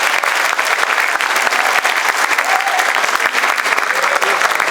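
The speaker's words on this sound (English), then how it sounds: "Big round of applause for them" Close, loud round of applause at a spring sports banquet for seniors on stage, dense clapping with sharp individual claps standing out, and no voices.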